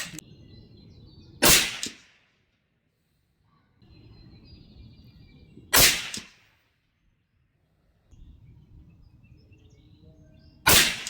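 Three loud, sharp suppressed .308 hunting rifle shots, fired with Nosler 110 grain Varmageddon hunting ammunition, ring out about four seconds apart. Each crack trails off quickly, with low outdoor rumble between them and no talking.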